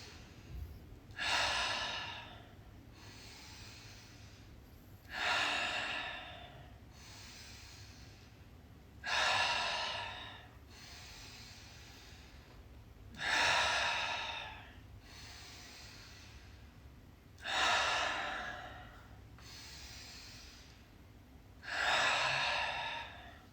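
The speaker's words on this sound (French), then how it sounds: "on va commencer par prendre 10 grandes inspirations, 10 grandes expirations" Slow, deep breathing during a French-guided yoga flow: six loud, airy breath sounds spaced about four seconds apart, each swelling and fading, with quieter hushed breathing between them and no talk.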